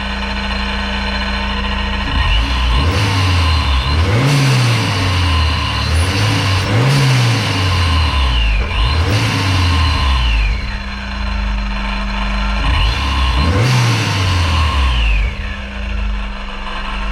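A supercharged Honda S2000 engine idles roughly, then revs up repeatedly in short, rising bursts that fall back to idle, with a rattling, whining mechanical edge throughout.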